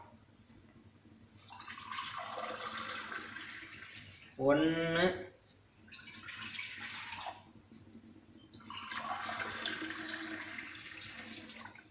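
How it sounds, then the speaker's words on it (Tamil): Water from a tumbler is poured into a pan on a lit stove for cooking, in three separate rushing pours with short pauses between them. A brief spoken word comes between the first and second pours. "2 டம்ளர் தண்ணி ஊற்றிடலாம்."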